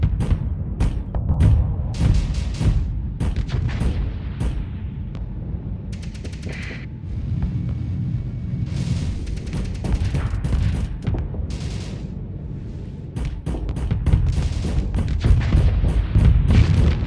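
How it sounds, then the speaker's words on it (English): Light mortars fire in the space combat game Starsector, a loud run of rapid booming shots over a rumbling low bed, with a brief lull midway before the volleys pick up again. "The problem is that the light mortar is very inaccurate."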